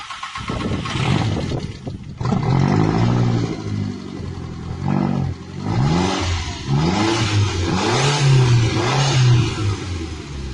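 A Volkswagen Mk1 Golf with a swapped-in 1.8T AUM engine cranks and fires on its first start, then revs in several loud surges before settling, close up with no talk.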